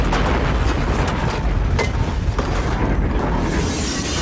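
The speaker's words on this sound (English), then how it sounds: "all the shriekers are blown up in a really," A big movie explosion blows up the Shriekers in Tremors 2, a loud, sustained rumbling roar of blast and debris that rolls on for several seconds without any voices.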